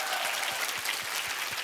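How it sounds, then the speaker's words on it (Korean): A Korean TV studio audience claps in a brief, dense burst of applause, steady and fairly loud throughout with no talk on top. "박수 한번 보내 주세요."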